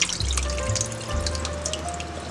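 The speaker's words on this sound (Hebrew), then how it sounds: "המים שקופים, שופכים את כל המים וממשיכים" Water poured off rinsed rice flows in a steady, close splash and trickle, with a few drips and small bursts near the start, and no talking.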